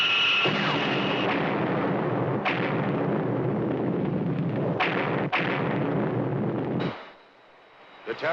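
A continuous heavy roar from a film sound effect of an explosion diverting a missile, punctuated by several sharp booms, swells loudly and then drops away to near silence near the end.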